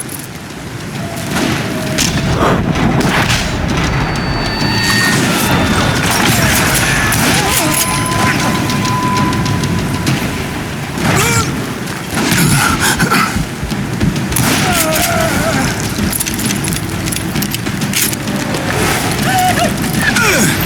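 Gunfire and explosions from the Western shooter game Call of Juarez Gunslinger, a loud, continuous barrage of booms and cracks running throughout with dense battle noise and no pauses.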